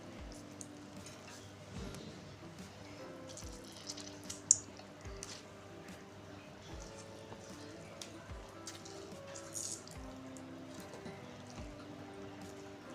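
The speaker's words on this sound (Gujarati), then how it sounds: "આપણે હાથમાં આ રીતના થોડા થોડા કારેલા લઈ અને આ રીતના નીચોવી નાખશું" Soft wet squishing as cooked bitter gourd is squeezed by hand to press out its bitter water, with faint trickles and drips of liquid falling, quiet and close.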